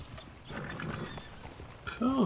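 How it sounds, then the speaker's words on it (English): A horse's hooves clip-clop in Red Dead Redemption 2, a run of soft, uneven steps at close range, with a voice speaking over them near the end. "Okay, we'll park our horse in an appropriate place."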